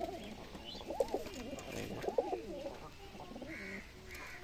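A young Beldanga pigeon, a local Giribaz breed, coos in soft repeated rounded phrases, close by and fairly quiet, with a few faint chirps in the background.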